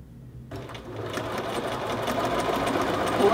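A sewing machine runs fast and steady, stitching a men's shirt collar to its facing, a continuous close whirring rattle that begins abruptly and builds slightly in loudness.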